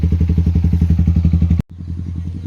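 A Yamaha R15 V4 motorcycle engine idling close by with a fast, even, thumping pulse, cut off by a brief dropout before the same steady idle resumes.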